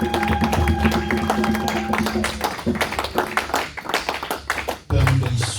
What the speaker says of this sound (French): Reçois les acclamations et les cris de triomphe